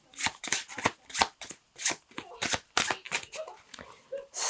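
Quick bursts of tarot cards riffled and shuffled, a rapid run of crisp papery flutters and slaps, close and fairly loud with no talking.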